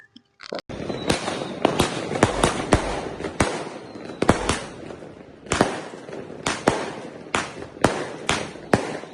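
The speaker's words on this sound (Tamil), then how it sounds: "நம்மளோட கேட் ஹால்வேல வெடிக்கிறோம்." Deepavali firecrackers bursting in a gate hallway at home, a rapid irregular string of sharp loud bangs and cracks, some in quick clusters, echoing in the enclosed space without talk.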